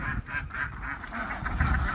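A burst of honking waterfowl calls, rapid and overlapping, fairly loud and close.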